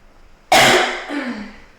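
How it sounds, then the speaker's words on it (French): A single sharp, loud cough bursts out suddenly, followed by a shorter, softer throaty second cough that trails off, heard close up with no other sounds. "Pour la toux, encore, j'ai toujours ma toux."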